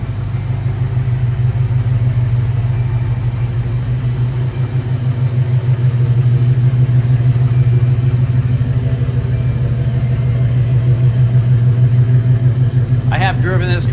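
A 1969 Chevrolet El Camino V8 drives along the road with a steady, deep engine drone and road rumble throughout, and a voice briefly comes in at the very end.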